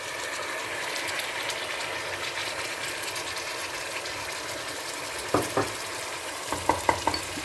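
Onions and tomatoes sizzle steadily in a hot pan for keema, with a few sharp clinks of a spoon stirring near the end.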